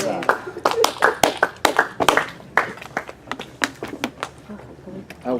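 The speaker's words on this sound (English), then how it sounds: "Round of applause for that." A small group claps at a coaching self-test session, giving scattered, uneven, close handclaps that are loud and distinct, and voices talk over and between them.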